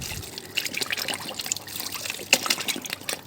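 Organic fertilizer water poured onto plants from a container, a steady trickling and splashing stream up close, with no talking.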